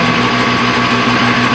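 A lathe turning down half-inch threaded rod for a slide hammer axle puller shaft, giving a loud, steady motor whine with a constant tonal hum and no pauses.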